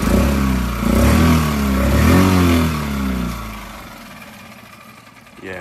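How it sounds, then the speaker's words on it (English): A small Tohatsu 6 horsepower four-stroke outboard engine revs up twice in quick surges, then settles back toward a lower idle, loud and close. "Just gonna get a few revs."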